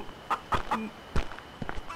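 A chicken in the pirate survival game Last Pirate Island clucks in several short, close bursts, with light footstep-like taps scattered between the calls.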